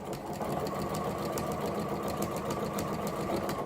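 A sewing machine runs steadily through a quarter-inch seam on a quilted pinwheel block, a continuous close whirring hum without pause and with no talking.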